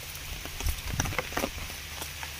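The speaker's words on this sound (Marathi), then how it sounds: "पाऊस खूप येतोयस तू आज." Heavy rain patters on surfaces outdoors at a muddy riverside spot, scattered drops tapping close by over a faint steady hiss.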